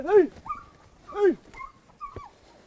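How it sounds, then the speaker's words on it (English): A hunting dog on a bush pig hunt in thick, thorny South African bush gives two loud, low-pitched whining yelps, each followed by a brief higher whimper, while a man calls out once. "What dog is that? That's that low pitch."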